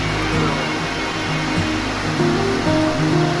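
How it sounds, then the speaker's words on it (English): Heavy monsoon rain pours down over an outdoor teaching area, a dense continuous roar of water with no break, with faint indistinct voices beneath it. "This is one of the monsoon days where the kids are out there and it just started pouring."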